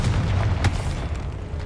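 A Confringo fire spell blasting a collection chest in the video game Hogwarts Legacy, one deep booming burst with a low rumble that fades over under two seconds.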